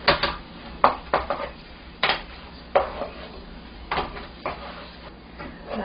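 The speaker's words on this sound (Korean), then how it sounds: "고구마 넣고도 재빠르게 섞어줍니다" Sweet potato pieces tossed quickly in a pan for Chinese candied sweet potato, giving repeated sharp clanks and scrapes of utensil against metal at an uneven rhythm, close and fairly loud.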